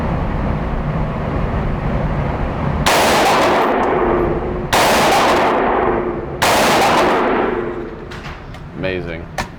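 Three loud, sharp AR-15 rifle shots from a Palmetto State Armory build kit fire at a range about two seconds apart, each with a long decaying echo, over steady background noise and a brief clatter at the end.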